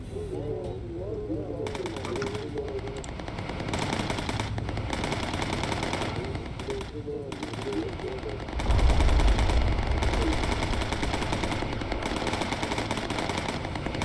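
Quad .50 machine guns rattle in sustained bursts aboard a bomber in the video game Bomber Crew, loud and continuous with a heavier blast near the end, while a voice talks over the gunfire.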